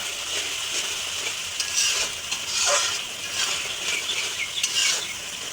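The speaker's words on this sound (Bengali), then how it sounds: "মশলাটা কিন্তু খুব সুন্দরভাবে এই যে ফুটতেছে" Spice paste sizzles and bubbles in hot oil in a village-style home kitchen, ready for fish to be added; a steady, close, crackling fry continues throughout with small popping bursts, and no voices are heard.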